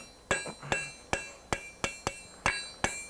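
Hammer blows strike hot steel bent over the tip of a blacksmith's anvil, eight sharp ringing metallic hits at a steady, slightly uneven pace, close and clear with no talking.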